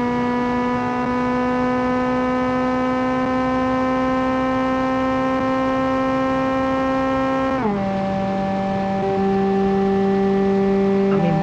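In a racing video game, a screaming Hyundai Elantra-like coupe fitted with ricey bits holds a steady, loud, droning engine wail. It falls abruptly in pitch at an upshift and then creeps back up, heard alone.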